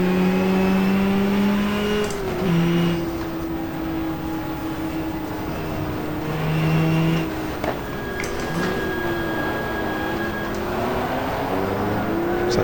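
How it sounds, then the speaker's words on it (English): Race car engines in the GTR2 racing game at a 1994-era Jarama two-hour event, including a number 40 Ferrari, drone steadily and loudly with shifting pitch as several cars rev, accelerate and pass, with no talking. "Anders Olofsson in the number 40 Ferrari"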